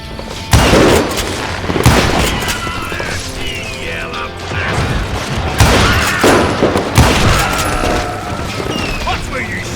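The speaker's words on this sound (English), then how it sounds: "Watch where you're shooting." Gunfire in the Western shooter game Call of Juarez Gunslinger comes as repeated loud shots and booming blasts in bursts, with clattering mechanisms and crashes between them and game voices shouting under the shooting.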